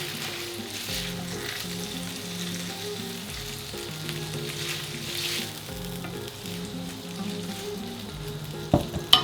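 An egg fries in a pan and gets chopped through, a continuous close sizzle with soft stirring and a few sharp utensil knocks on the pan near the end.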